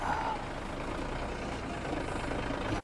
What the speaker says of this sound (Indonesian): dia melihat sebuah mobil RV datang dari kejauhan